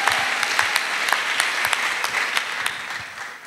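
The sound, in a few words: congregation applauding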